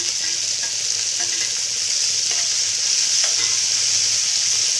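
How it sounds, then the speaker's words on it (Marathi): Cluster beans fry on low heat in homemade masala with turmeric, a loud, even sizzle running throughout with soft, occasional stirring clicks beneath it. "याला कमी गॅसवर परतून घेऊ आपण"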